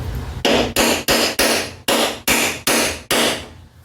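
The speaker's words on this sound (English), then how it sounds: "take this here hammer, or chisel," Eight sharp metallic strikes of a hammer on a chisel working on a tailgate, evenly spaced and loud, each with a brief ringing decay.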